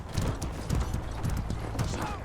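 A horse gallops in Mordhau, a medieval combat video game: rapid, rhythmic hoof clip-clop at moderate distance, fairly quiet, with faint clanking in the background.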